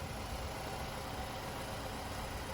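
A newly installed car engine idles steadily after a swap, a continuous even rumble with no breaks, close and fairly loud, with no talking.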